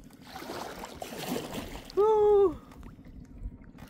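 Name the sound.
kayak paddling on a lake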